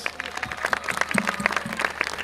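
Festival audience applauding in an outdoor setting, a steady patter of many hands clapping at moderate distance, with a low voice or hum underneath.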